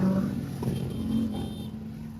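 Motorcycle engines drone past at moderate distance in Lonavala, a steady hum that swells slightly and then fades.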